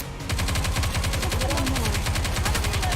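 Gunfire from the Nikke video game rattles out in a fast, steady automatic burst, loud and close, running continuously after a brief lead-in.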